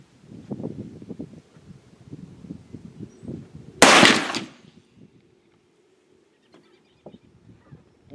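Muzzleloader rifle firing 120 grains of Triple Seven 3FG powder: a single sharp, loud shot that decays quickly, preceded and followed by soft handling rustles and footsteps outdoors.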